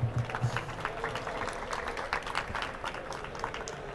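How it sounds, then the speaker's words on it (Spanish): Audience applause at a talk on 360-degree photography, a dense, even patter of clapping held at moderate level for several seconds, with a brief hint of voices underneath. "Así que os dejo con él y un aplauso"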